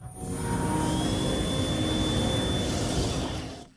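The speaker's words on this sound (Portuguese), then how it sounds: "é uma hélice girando" Small suction propeller on a micromouse maze-solving robot spinning at a competition, a steady high-pitched whirring hiss with a tonal whine that holds for a few seconds, then cuts off abruptly.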